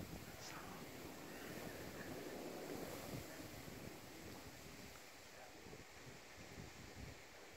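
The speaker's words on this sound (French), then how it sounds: "Ça souffle, dis donc, les amis." Strong wind gusts from a storm in Alsace, a continuous loud roar and rush battering the microphone, swelling and easing, with no voices.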